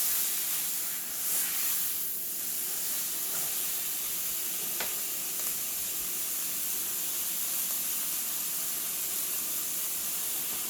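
Beef strip steak sizzles in brown butter as it is turned in the pan, giving a steady, bright hiss with faint crackles and occasional soft handling sounds throughout.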